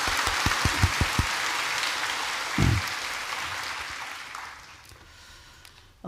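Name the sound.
church congregation applause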